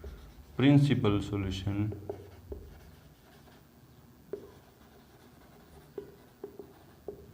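A pen writes on paper while a maths solution is worked out, producing faint, scattered taps and scratches. Someone speaks briefly at the start.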